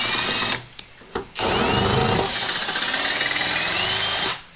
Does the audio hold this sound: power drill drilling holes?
yes